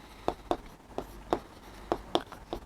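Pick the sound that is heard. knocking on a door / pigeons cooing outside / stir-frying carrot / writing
writing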